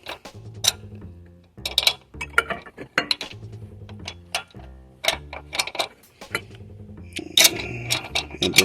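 Metallic clanks and clicking ticks come in repeated clusters as a crescent wrench works bolts on a Chrysler 3.5 L engine during cylinder head removal, close up and sharp, with short pauses between bursts and no talking.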